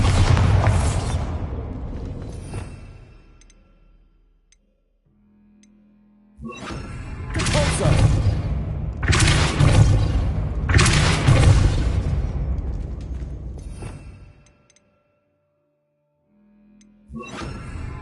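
Bombarda spell blasts from Hogwarts Legacy, several booming explosions that swell and fade with long rumbling tails, separated by short quiet gaps, loud and close.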